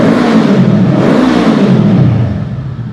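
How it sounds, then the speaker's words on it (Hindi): A Voge CU 525 cruiser motorcycle with a 525 cc engine and dual exhaust revs steadily up and down, loud and close, with no talk over it, the pitch easing off toward the end. "check out the sound, dual exhaust, 525 CC engine"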